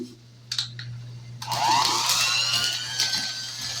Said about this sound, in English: we got the egg, oil, and vanilla, so now we're going to mix this up